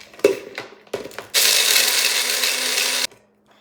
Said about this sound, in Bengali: ব্লেন্ডার করে নিব